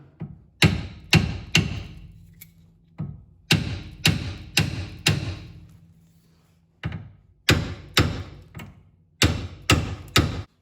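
A series of sharp metallic hammer blows on a BMW E36 steering rack part, struck in quick bursts of two to four with short pauses between, loud and close.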